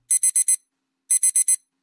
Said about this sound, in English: I had set my alarm at 4:30, which must have been the source of all the noise